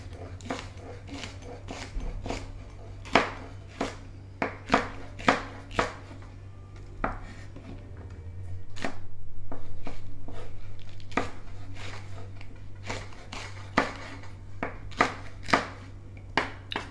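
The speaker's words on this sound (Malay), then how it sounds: "Okay, kita nak potong cili." A knife chops chili peppers on a cutting board in quick, uneven bursts of sharp, close taps, with a brief pause in the middle filled by a low rumbling hum.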